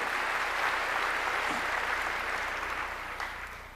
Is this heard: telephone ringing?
no